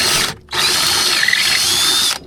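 A power drill whirs loudly as it enlarges a hole to mount a fuel pump on a vintage Polaris triple snowmobile, with one brief pause between two sustained high-pitched runs.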